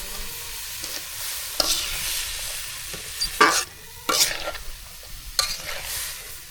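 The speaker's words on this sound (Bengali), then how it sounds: "কালি জিরা দিয়া পেঁপে ভাজি লবণ দিলাম" Papaya pieces frying in a pan with nigella seeds, salt and a pinch of turmeric, stirred in repeated scraping strokes over a steady close sizzle, with no talking.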